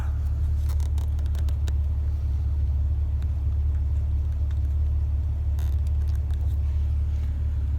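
A car engine runs steadily during ignition switch wiring checks, giving a continuous low rumble with faint intermittent ticking above it and no talk.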